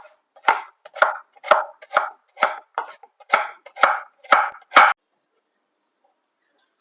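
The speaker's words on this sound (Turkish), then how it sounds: "Bir adet kuru soğanımızı yemeklik olarak ufak ufak doğruyoruz." A knife chops an onion steadily on a cutting board, about a dozen crisp, evenly spaced strikes, close up, then stops into silence.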